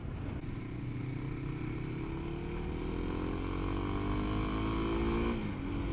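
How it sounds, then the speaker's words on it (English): A 2022 Kawasaki KLX300 dual sport motorcycle engine drones steadily up close, its pitch rising slowly as it accelerates, then dipping briefly near the end. "I like the way this engine sounds"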